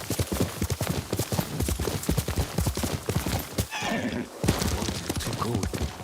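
Horse hooves clip-clop at a steady trot throughout, loud and close, with a brief whinny and crunching footfalls midway, in the video game Ghost of Tsushima.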